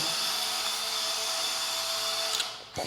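The small electric motor of an FMS FCX18 Chevy K10 1/18 scale RC truck drives slowly, a steady high-pitched whine close by that fades near the end.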